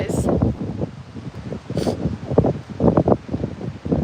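Gusty wind in a park buffeting a handheld microphone while someone walks: rough, fluttering rumble rising and falling in bursts, fairly loud and close, with a voice speaking intermittently over it.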